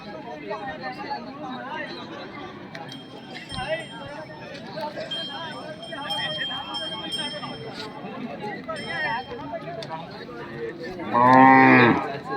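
A buffalo lows at a cattle fair with one loud, drawn-out moo near the end, rising over steady crowd chatter and outdoor hubbub while someone talks throughout.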